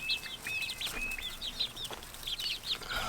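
Backyard Barred Rock chickens cluck and chirp in quick, soft bursts while going after greens, a lively flock of short calls at a moderate distance with no talking.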